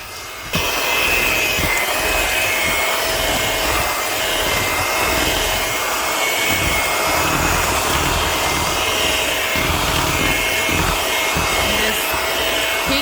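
Electric hand mixer beating instant pudding mix with milk, a steady loud whirring drone running continuously from start to finish with no pauses.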